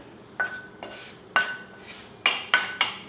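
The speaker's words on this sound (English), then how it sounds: "So I'm gonna get this all plated." Crisp clinks of dishes and cutlery while pad see ew is plated in a home kitchen, six separate ringing clatters, the last three in quick succession, with no talking.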